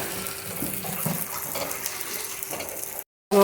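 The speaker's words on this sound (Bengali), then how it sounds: "এখন আমি অল্প জল দিয়ে মাংসটাকে সেদ্ধও করব" Water poured into a hot pan of sizzling chicken kosha, a steady broadband hiss and bubbling that runs nearly unbroken for about three seconds before a brief silent gap.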